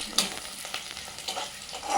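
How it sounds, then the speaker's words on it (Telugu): Onions and chillies fry in a pan with a soft, crackling sizzle, and a sharp utensil clink sounds near the start, all close and brief. "ఇప్పుడు ఈ ఉల్లిగడ్డలు మంచిగా ఫ్రై అవుతున్నాయి"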